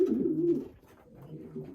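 Pigeons cooing inside a loft, a couple of soft, low throaty coos rolling one after another, close and fairly quiet with no talk.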